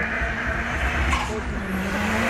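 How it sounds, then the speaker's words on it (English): Ford Cortina race car with a 450 horsepower SR20 engine at a sprint event, a loud steady engine drone with a whining tone that shifts slightly in pitch. "So that's a 450 horsepower SR20 sitting in front of that Cortina."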